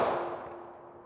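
A bullet strikes a lightweight RMA Armament Model 1165 Level IV armor plate, producing a single sharp metallic clang that rings and fades over about a second.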